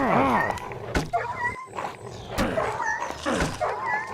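Dogs fighting in the survival game Mr Prepper, snarling, yelping and whimpering in close, scrappy bursts with sharp hit sounds, over a continuous background of game noise.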